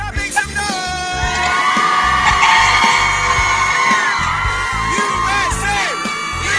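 A lively crowd at a FIFA event whoops, yells and cheers continuously, with shrill whistles and high calls rising over a dense roar and a thumping bass beat underneath.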